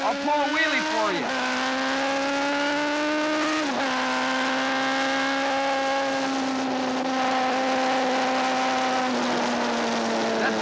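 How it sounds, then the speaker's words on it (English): Racing superbike accelerating hard out of turn 9 at Laguna Seca while lifting into a wheelie, a loud close engine note climbing steadily through the gears, with short dips at each shift. "I'm coming out of turn 9. I'll pull a wheelie for you."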